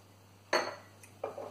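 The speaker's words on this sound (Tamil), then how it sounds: "இந்த சர்க்கரையை போட்டுக்கலாம்" Sugar is poured into a mixer jar for appam batter, giving two short clinking rattles against the jar over a steady low hum.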